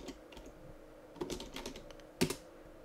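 Clicks of typing on a computer keyboard, scattered keystrokes in short bursts with a louder pair of taps near the end, close and alone over faint room noise.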